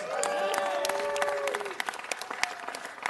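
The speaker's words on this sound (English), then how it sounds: "Applause." Audience applause in a city council chamber, a burst of clapping with some cheering that thins out into scattered claps over a few seconds.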